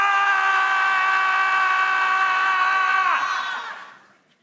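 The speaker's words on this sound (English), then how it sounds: "let's scream on the count of three" An audience at the British Academy Film Awards ceremony in the Royal Festival Hall, London, lets out a collective primal scream. The sound is a loud, sustained, tonal mass of voices that holds steady for about three seconds and then fades away.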